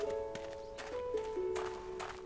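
Hooves clop in a quick run of footfalls from a horse in the Minecraft video game, mid-close and fairly soft, over a steady tonal game music bed.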